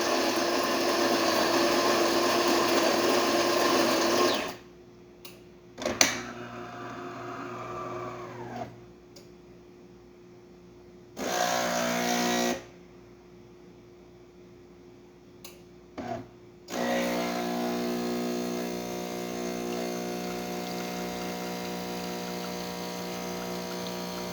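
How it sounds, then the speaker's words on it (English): DeLonghi Magnifica espresso machine brewing a shot: a loud steady pump whine and buzz stops and restarts in bursts, with clicks and short gaps of quiet between, then runs continuously at the end. "Let's go ahead and make an espresso."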